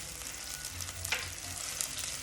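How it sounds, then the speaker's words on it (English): Finely chopped green chilli sizzles and fries in hot oil with golden onions in a pan, a steady close crackle with light stirring, no voices. "Now I'm going to add some green chilli, the one we finely chopped."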